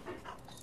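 A dog whimpers in Marvel: Midnight Suns, a short, soft whine over a steady game-ambience bed with no talk.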